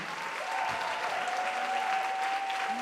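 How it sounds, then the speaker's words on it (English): An audience claps for a sound and technical crew, a full, even wave of applause at a steady level, with a sustained tone ringing faintly underneath. "Please, please give a huge applause for them for making this all look and sound so good."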